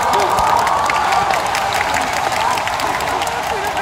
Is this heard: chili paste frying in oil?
no